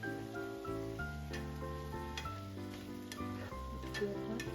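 Spice paste sizzles in a pan for a Bengali radish and prawn curry, a steady close frying hiss with occasional stirring scrapes, partly under a bed of tonal background music.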